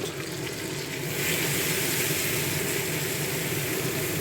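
Tomato with ginger, garlic and onion paste frying in a pan, a steady loud sizzle that swells and stays dense throughout with no talking.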